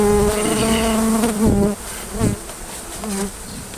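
Honeybees buzz loudly and steadily, close by, as a hive is cut out from under a house, with a dense insect drone that fades somewhat partway through.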